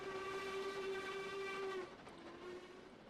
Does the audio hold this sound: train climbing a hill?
yes